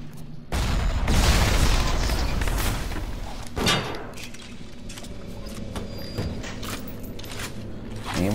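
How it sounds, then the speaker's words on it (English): An explosion goes off in BioShock's Neptune's Bounty level, a sudden loud boom with a long rumbling decay, followed by a second thump and a lingering low roar. "I'm gonna explode it"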